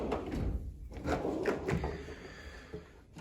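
An empty metal drawer of a Matco 6S toolbox slides open and shut with rattling, scraping runs and a few soft knocks, fairly quiet and close.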